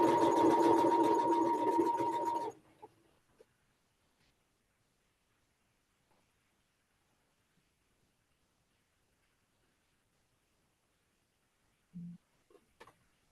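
A sewing machine stitching quilt pieces runs steadily for about two seconds, then stops, leaving near silence broken only by a couple of faint soft knocks.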